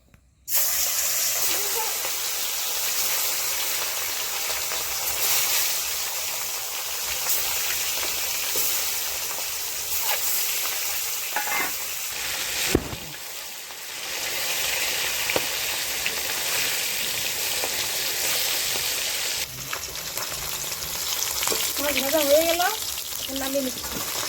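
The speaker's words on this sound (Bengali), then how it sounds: "এখন আমি রুই মাছটাকে ভেজে নেবো" Rui fish frying in hot oil, a steady close sizzle and hiss running the whole time with brief crackles and a few clatters, while a voice talks now and then in the background.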